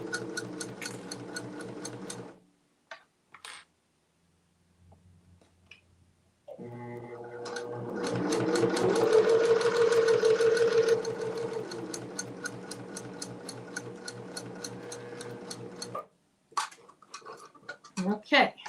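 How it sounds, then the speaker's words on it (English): An embroidery machine stitches fabric with a steady, rapid mechanical rattle that runs for several seconds in the middle, framed by brief quieter clicks and pauses, with talk heard at the start and the end. "you could do these first stitches on the embroidery machine, so you program it"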